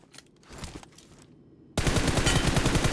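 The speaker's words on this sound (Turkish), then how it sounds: "Sık sık sık sık Buse." Automatic rifle fire in the mobile battle-royale game PUBG Mobile: quiet game noise gives way to a loud, sustained burst of rapid shots packed close together, running steadily to the end.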